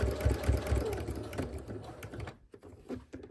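A sewing machine stitches a fabric potholder in rapid motorized bursts, running fairly steadily at first, then slowing into a few short separate runs with brief pauses between them.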